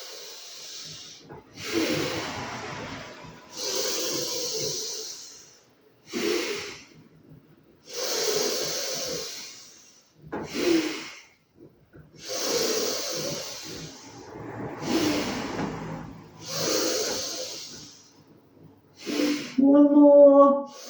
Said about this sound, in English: So almost finding that 4 count breath.